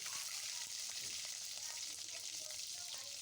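Five-spice seeds and a bay leaf frying in white oil in a wok, a steady close hiss of sizzling with faint crackles and no voices.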